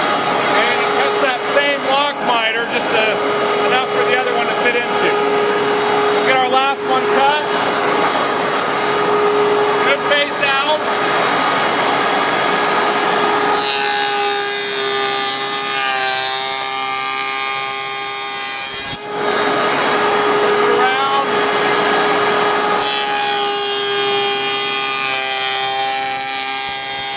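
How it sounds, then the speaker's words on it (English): A router machining a lock miter joint in wood for a storage chest, a loud continuous high-pitched motor whine and cutting roar with shifting tone as the board is fed, close up, with talking over it in places. "it cuts that same lock miter just enough for the other one to fit into"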